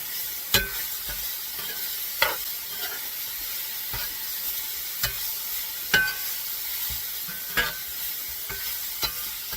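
Elk and pinto bean burrito filling stirred in a hot pan, soft sizzling under a regular series of scraping spoon strokes, each about a second or two apart, close and fairly quiet.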